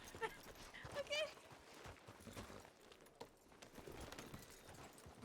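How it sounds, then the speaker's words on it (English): Horse hooves clip-clop at a steady ride in a Wild West roleplay video game, moderately loud, with talk over the top and some background game noise. "now I'm riding your horse"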